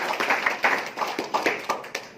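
A small group claps their hands in quick, uneven bursts, fairly close, with no voices over it.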